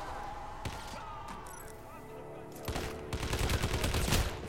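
Gunshots in the video game Hitman, a few scattered sharp cracks early, then a rapid rattling volley of shots that grows louder toward the end, with faint talk in the background.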